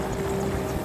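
A helicopter's engines and rotor give a steady, low droning hum with a sustained tone, brief and moderately loud, during an aerial switchback maneuver.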